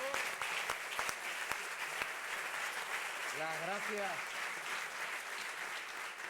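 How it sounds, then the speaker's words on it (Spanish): Audience applause for a round-table panel on philanthropy and armed conflict, sustained clapping with a few distinct sharp claps near the start, while a voice speaks briefly over it. "pero primero el aplauso"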